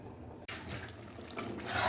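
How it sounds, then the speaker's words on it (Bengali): Water left from rinsing poppy seeds is poured into a simmering gourd and poppy seed curry, making a brief, close gush and splash over a faint, steady bubbling. "এবারে আমরা দিয়ে দেবো এর মধ্যে একটু পোস্ত যে করেছিলাম সেইটা ধুয়ে জলটা দিয়ে দেব"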